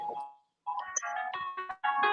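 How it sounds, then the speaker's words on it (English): A mobile phone rings with an incoming spam call, sounding a bright melodic ringtone in repeated tonal phrases after a brief pause, loud and close with no talking over it. "I should have cut my phone off. That's a spam."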